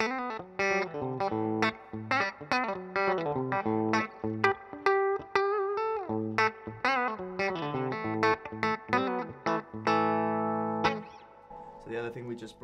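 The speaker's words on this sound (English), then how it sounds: "Try some country stuff on the bridge pickup as well." An electric guitar on its bridge pickup plays bright, twangy country-style picked phrases through an amplifier, with quick plucked notes and ringing chords, fairly clean with a slight edge.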